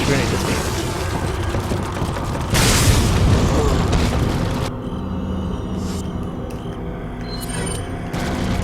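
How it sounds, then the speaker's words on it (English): A grenade goes off in Resident Evil 4 on Professional mode, a loud booming blast around the third second that dominates a dense mix of game sounds, with someone talking over the action. "That grenade is me."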